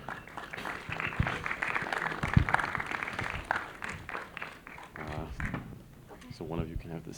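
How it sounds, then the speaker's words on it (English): Audience applause for a panel of conference speakers at a metaverse discussion session, a steady clapping crowd lasting several seconds and mixed throughout with talking voices on stage and in the room. "And a big round of applause for our panelists,"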